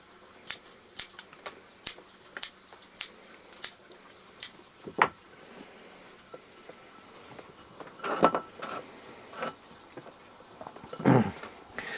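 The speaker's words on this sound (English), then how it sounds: "Just going to trim some of these longer roots down." Scissors snip the long roots of a cedar bonsai, a steady series of sharp, close cutting clicks about every half second, then a few slower, heavier snips and rustles.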